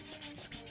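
Close, steady rubbing and rasping of sandpaper on a thick plastic action figure part during customizing, in short repeated strokes with brief dips between passes.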